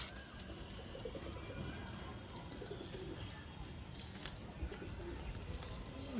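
Soft pigeon cooing over a steady hiss of background noise, low and muffled, with no talking.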